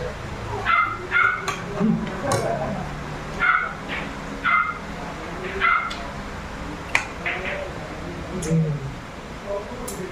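A dog yips and barks in short bursts, fairly close, with people talking in the background and steady ambient noise.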